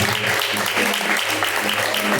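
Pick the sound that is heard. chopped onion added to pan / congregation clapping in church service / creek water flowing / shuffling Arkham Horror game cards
congregation clapping in church service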